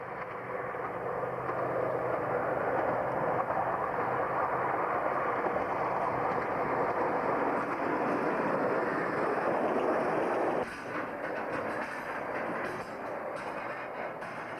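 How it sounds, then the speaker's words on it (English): A Cleethorpes to Sheffield diesel multiple unit approaches Brigg station in North Lincolnshire, its loud, steady engine and wheel rumble filling the air before dropping slightly in level near the end. "The train, a Cleethorpes to Sheffield diesel multiple unit, was approaching Brigg station"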